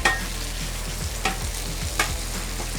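Pulled pork sizzles and fries on a hot griddle, a steady close crackle broken by a few scraping stirs of a spatula, with no voices.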